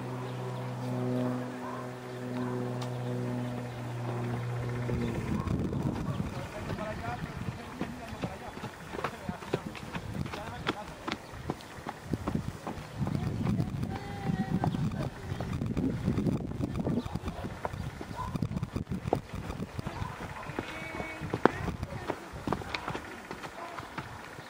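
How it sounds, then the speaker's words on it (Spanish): Rhythmic hoofbeats of a horse trotting on soft ground continue steadily at moderate distance, with a low hum at first and occasional voices. "Ahora trota una vuelta entera."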